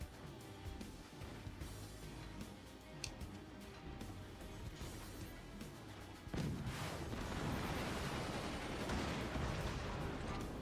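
Cannon fire in a naval battle video game rumbles as dense, continuous booms and crackles, growing louder and heavier after about six seconds.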